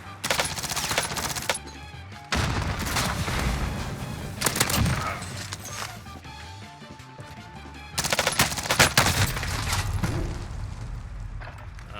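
Rapid video-game gunfire from Vanguard weapons, loud automatic bursts and single shots in dense clusters with brief lulls, filling the whole span.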